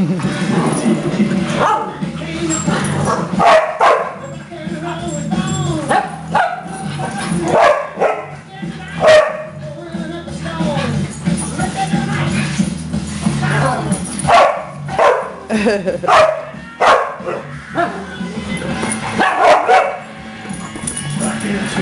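Excited yips and barks from several puppies, high and scattered, with whimpers mixed in and a voice talking underneath.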